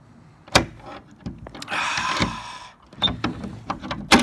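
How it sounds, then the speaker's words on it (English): A door lock being worked and the door pushed open, with sharp metallic clicks and clunks, a longer scraping rattle in the middle and more knocks afterward, close and fairly quiet, with no talking. "See if I can get this door open."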